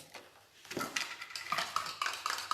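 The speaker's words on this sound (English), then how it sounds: "give that a good stir so it's all mixed through" Cornbread batter with egg being stirred in a bowl, a spoon scraping and clinking against the sides in quick repeated strokes, fairly close and moderately loud, with no talking.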